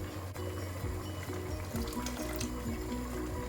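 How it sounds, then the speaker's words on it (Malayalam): Tamarind water is poured into a pan of fish curry masala in a home kitchen, making a steady, close liquid splashing and gurgling that runs continuously for a few seconds. "ആ മീൻ എടുത്ത് മാറ്റിയിട്ട് ആ പുളിവെള്ളം കൂടെ ആ മസാലക്കകത്തോട്ട് ഒഴിച്ചു കൊടുക്കാം."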